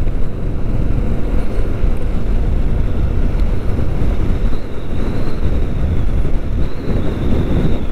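A 2020 Kawasaki Vulcan S motorcycle being run in below 4,000 revs on an open road, heard as a constant loud rumble buried in heavy wind buffeting at the microphone.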